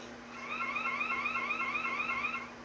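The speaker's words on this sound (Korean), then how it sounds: "곧바로 사이렌이 큰 소리로 울리고" An electronic scream-detection alarm siren in a women's restroom wails continuously, its pitch rapidly warbling up and down at a moderate distance, steady in volume over a low hum.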